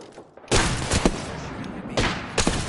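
Gunfire in the shooter game Apex Legends: heavy bursts of rounds hit loud and close, a sustained volley then further bursts, with no talk.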